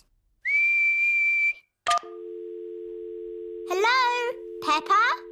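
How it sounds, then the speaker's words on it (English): A cartoon pig tries to whistle: a steady, thin, breathy tone, a sharp squeak, then a low droning hum with wobbling, squeaky pitch bends, like a child's failed whistle. "What's whistling anyway? You put your lips together and blow."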